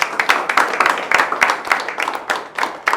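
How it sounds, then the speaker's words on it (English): A classroom group of teachers claps together in applause, a dense run of sharp, closely spaced hand claps that rise and fall irregularly, close and fairly loud, without speech. "Give yourselves a round of applause."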